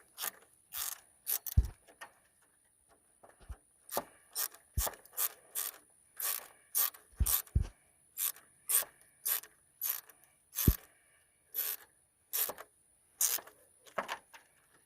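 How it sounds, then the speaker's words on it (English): A ratchet with an 8mm socket loosens a radiator hose clamp on a 1996 Ford F350 7.3L, giving close, crisp bursts of rapid clicking in repeated strokes separated by short pauses and a few knocks. "Let's take your 8mm socket, get on that and loosen it up."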